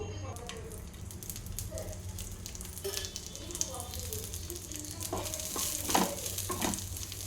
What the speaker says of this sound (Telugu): ఇలా ఇంకొంచెం ఫ్రై చేసుకోవాలి